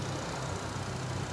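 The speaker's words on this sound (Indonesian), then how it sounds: "Dan ini suara mesinnya" A 2010 Nissan Livina X-Gear with a 1500 cc engine and automatic transmission idles steadily, a smooth, even low rumble with no roughness, heard alone.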